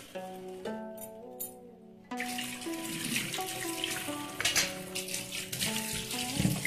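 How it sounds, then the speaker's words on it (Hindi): Tap water runs into a metal strainer as food is washed at a kitchen sink, with a steady hiss and splatter. A tonal ringing of water filling a vessel fades near the start, then stronger splashing follows. "छलनी में हम इसको वॉश करते हैं"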